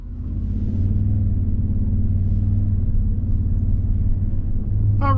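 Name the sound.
2024 Toyota Sequoia Capstone SUV driving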